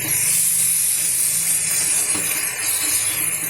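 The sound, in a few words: sautéing food in a pan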